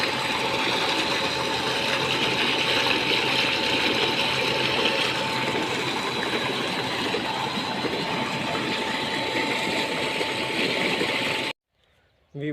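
An electric motor water pump runs steadily with a constant mechanical hum and a broad gushing hiss of water, loud and unbroken, before cutting out abruptly near the end.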